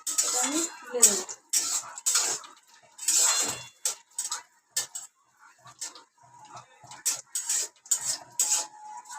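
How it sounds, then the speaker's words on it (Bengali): Pilaf ingredients stirred in a frying pan, with irregular metallic clinks and scrapes of a utensil against the pan, close and intermittent, and some light background sounds between strokes. "দু এক মিনিট আমি নেড়ে চেড়ে"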